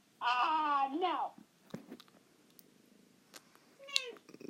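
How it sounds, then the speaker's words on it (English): A house cat gives a loud, drawn-out meow near the microphone, then a shorter second meow a few seconds later, with quiet rustles in between. "My cat's here."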